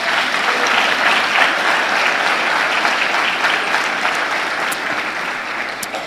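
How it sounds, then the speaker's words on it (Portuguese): Steady, dense applause from a church congregation during a sermon, loud and sustained for several seconds with no voices over it. "Vamos aplaudir Jesus."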